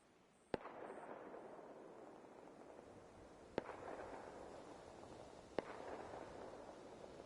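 Three sharp, isolated shots ring out a few seconds apart in the Arc Raiders video game, each a sudden crack with a short echoing tail over a steady low background hum; no talk.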